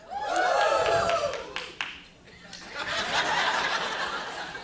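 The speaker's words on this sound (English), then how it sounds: "Like one applause" Comedy show audience laughing and clapping in a short burst, with a few whoops and chuckles in the crowd that fade briefly before a second swell of laughter.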